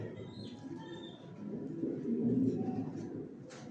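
Racing pigeons in a loft coo softly, low rolling murmurs overlapping at close range, fairly quiet, with a few faint chirps and no talk.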